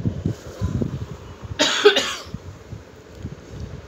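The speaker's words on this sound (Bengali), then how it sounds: "চাপতে আর পাচ্ছি না, বারবার কাশিটা চলেই আসছে।" A woman coughs twice in quick succession, loud and close, over a faint background of low kitchen noise.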